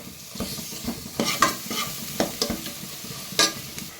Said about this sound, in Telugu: పచ్చిమిర్చి కూడా బాగా వేగాక ఇందులోనే 1 స్పూన్ అల్లం పేస్టు వేసి కలబెట్టాలి.